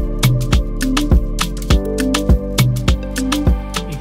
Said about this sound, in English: Then I had this pad that was off. And the pad name was MPA Harry Pad and Sub.